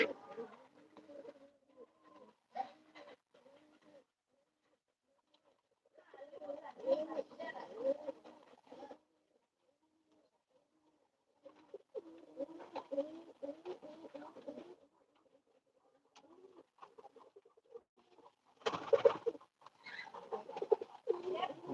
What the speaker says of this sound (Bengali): এটা আমার কবুতর খামার